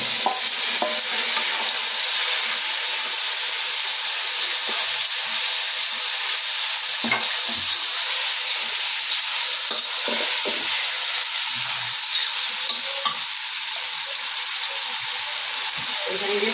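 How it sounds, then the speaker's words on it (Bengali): Spice paste frying in a pan gives a steady, loud sizzle with hissing steam throughout and occasional stirring scrapes. "পেস্টটা আমার হালকা হালকা ভাজা হয়ে গেছে।"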